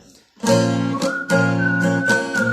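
Someone whistles an arabesque melody over strummed bağlama chords. Strong clear chord strikes come in short phrases, with the whistled line riding on top close to the microphone.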